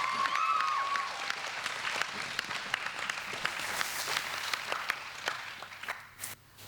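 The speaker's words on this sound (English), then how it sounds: "Can we just give her a round of applause for Amber being awesome?" An audience at a morning church conference session applauds with steady, moderately distant clapping that thins out and tapers off toward the end.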